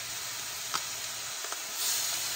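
Shaoxing cooking wine poured into a hot pan of stir-fried noodles for mie goreng, a faint continuous sizzle and hiss that swells slightly toward the end, with a few soft clinks.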